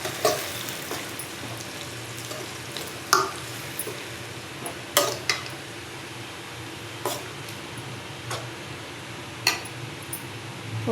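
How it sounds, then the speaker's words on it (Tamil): Food being stirred in a cooking pan, with repeated scraping and squishing strokes at irregular intervals over a soft background of sizzling. "சேர்த்துட்டு நல்லா கிளறி விடுங்கம்மா"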